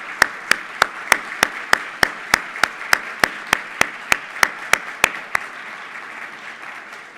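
Applause from a crowd, with a steady, evenly spaced run of sharp loud claps over a softer wash of clapping that trails off near the end.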